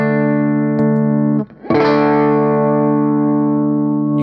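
A sustained guitar chord passes through a Vertex Steel String clipping pedal, loud and steady, with a brief dropout before a fresh, brighter restrike rings out evenly and sustains to the end.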